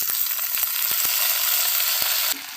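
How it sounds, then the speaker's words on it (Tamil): Vallarai greens sautéed with small onions and garlic in a hot pan give a steady, loud sizzle, dotted with a few soft knocks from stirring, and the frying drops off abruptly near the end. "இது எல்லாத்தையும் நல்லா வதக்கி எடுத்துக்கலாம்"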